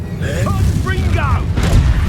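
A Confringo fire spell in a magic-themed video game bursts into a deep, rumbling boom that rolls on for about two seconds while a voice talks over it.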